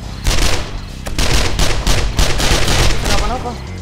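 SMG fire in the zombie survival game 7 Days to Die comes as loud, rapid automatic bursts, close and sustained with brief gaps between volleys.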